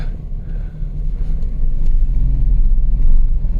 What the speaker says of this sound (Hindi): देखिए गाड़ी धीमी हो रही है